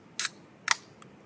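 A can of sparkling water is cracked open with two quick, sharp bursts of snap and fizz a half second apart, then a faint tick, all close and quiet against a near-silent room.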